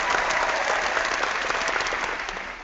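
Canned applause sound effect played in an online video hangout: a bright, dense burst of crowd clapping, loud and steady, tapering slightly at the end with no talk over it.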